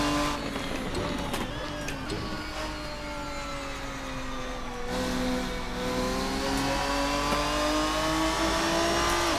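A Ferruccio 57 race car lapping in the Assetto Corsa sim, its high engine note rising and falling through gear changes and revs, loud and continuous with no talk.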